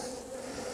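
Bees in a winter hive, with the frame holding brood and the queen lifted out, give a brief, steady, close buzz with no other sound.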